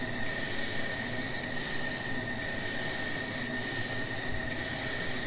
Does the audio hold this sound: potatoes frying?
no